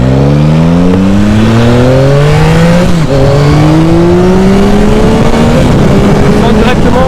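A 2021 Yamaha MT motorcycle accelerates hard in riding mode 2, its engine note climbing steeply through successive gears with brief dips at each shift, loud and close throughout.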